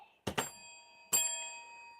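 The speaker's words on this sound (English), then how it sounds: "Wow, that was a good bell." A boxing bell rings at a bare-knuckle fight event, a couple of quick clangs followed by one more struck tone that rings out and fades, fairly faint with no talk over it.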